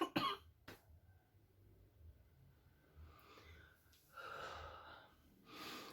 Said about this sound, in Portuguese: mais dá vontade de tossir.